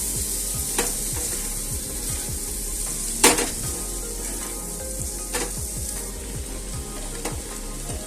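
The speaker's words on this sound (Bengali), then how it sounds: "দেখো শিমের দানা দেওয়ার পরে আমি মিনিট 5 আমি এটাকে ভালো করে নেড়ে চেড়ে কষিয়ে নিয়েছি" Flat bean seeds and potatoes stir-frying in a pan, a steady close sizzle with repeated scraping strokes of a spatula and one sharper clatter partway through; no talking.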